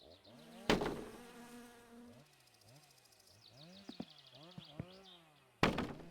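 Buzzing insect like a mosquito whines in continuous warbling drones near the microphone, with two sharp loud thumps near the start and end and a few smaller clicks in between, no speech.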